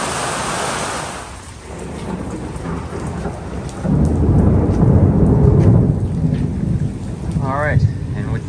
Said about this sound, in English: the storm seems to be passing